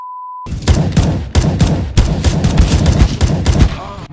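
Rapid bursts of gunfire from the video game Counter-Strike, loud and dense with repeated volleys for several seconds after a short beep tone at the start.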